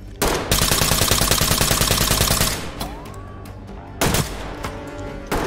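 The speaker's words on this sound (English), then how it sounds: "I gotta lay down heavy fire" Full-auto gunfire in the Ready or Not video game: a long, rapid burst of loud rifle shots lasting about two seconds, then a quieter pause with a mechanical whir and two short, sharp bursts near the end.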